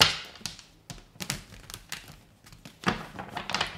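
Tarot cards are shuffled close by in soft, uneven bursts of papery flicks and taps, with a quiet room behind.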